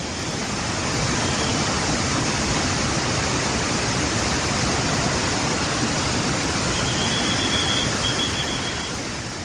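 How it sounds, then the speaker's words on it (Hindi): The flooded Alaknanda river in Rudraprayag roars in spate, a loud, unbroken rush of churning water that stays steady and dense from start to finish with no voices over it. "उत्तराखंड के रुद्रप्रयाग में अलकनंदा उफान पर है"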